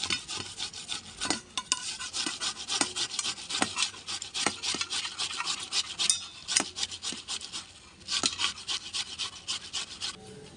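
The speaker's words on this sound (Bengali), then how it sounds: "তরমুজের শরবত বানানোর জন্য প্রথমে আমরা তরমুজটাকে ছুলা দিয়ে ছুলে নেব ভালো করে।" A watermelon is peeled with a hand peeler for sherbet, giving a steady run of close, dry rasping scrapes in quick repeated strokes with a few sharper catches, alone without voices.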